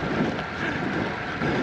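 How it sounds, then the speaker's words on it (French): Strong headwind buffets the microphone of a cyclist, producing a dense, steady roar of wind noise that fills the whole clip without pause. "Je sais pas si on m'entend avec le vent."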